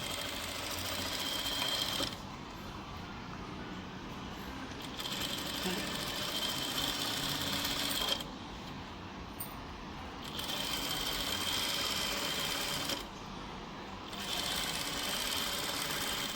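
A sewing machine stitches piping onto fabric in a steady, fast mechanical whir, running in three long bursts separated by short quieter pauses, close and loud.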